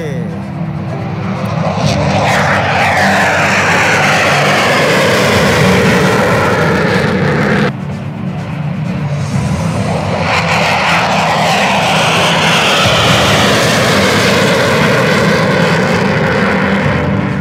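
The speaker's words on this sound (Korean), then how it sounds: "관제탑에 이륙 허가를 받아서 이륙을 할 겁니다. 벌써 이륙합니다." A KF-21 fighter jet takes off during a test flight at an air force test flight squadron base, producing a loud, sustained roar with sweeping tones. The roar breaks briefly partway through, then resumes at full strength.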